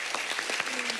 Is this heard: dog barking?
no